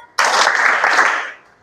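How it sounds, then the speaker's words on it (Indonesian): Students clapping in a classroom, one short loud burst of hand claps lasting about a second that quickly fades, with no talking. "saya bilang atas, kamu tepuk 3 kali"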